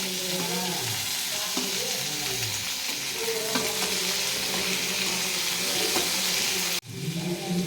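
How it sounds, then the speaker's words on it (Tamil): Onions and tomatoes sauté in a pan for chicken gravy, with a loud, steady sizzle and frying hiss throughout. Stirring scrapes and clunks sound close by, and the noise cuts off briefly near the end. "வெங்காயம் நல்லா வதங்கினதுக்கப்புறம் ஒரு 2 தக்காளி, 3/4 கிலோ சிக்கனுக்கு நான் சேர்த்துருக்கேன்"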